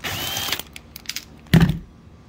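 Power drill driving screws into a Winnebago motorhome roof during its replacement, with a close, loud whirring burst at the start, short intermittent clicks, then a heavier second burst of the drill biting in.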